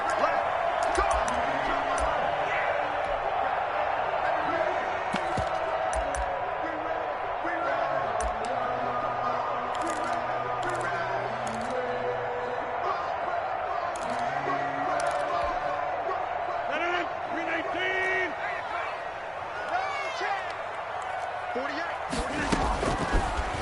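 Steady stadium crowd roar from an American football video game featuring the Philadelphia Eagles and Green Bay Packers, a dense continuous wash of noise with scattered sharp thuds and a few louder swells.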